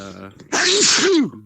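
A single loud sneeze bursts out with a sharp broadband blast and a trailing vocal tail, preceded and followed briefly by quiet speech.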